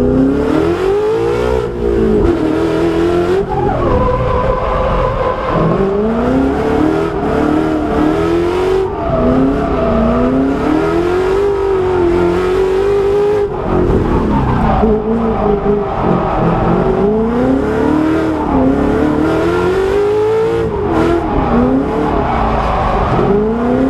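Ford Mustang RTR engine revving hard in repeated surges while drifting, pitch rising and falling over and over, loud and close, with hints of tire squeal.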